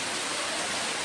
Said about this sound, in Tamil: கனமழை ரொம்ப பெய்யும் ஃப்ரெண்ட்ஸ்.